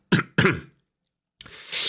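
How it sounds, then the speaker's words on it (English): Two quick, sharp coughs close to the mic, then a pause and a rough throat-clearing rasp, all without talking. "I need to cough, clear my throat"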